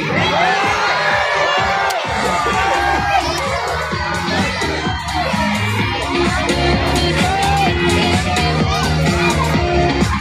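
A big crowd of schoolchildren from grades one to three at a choreography contest cheers and screams loudly and without a break as a winner is announced.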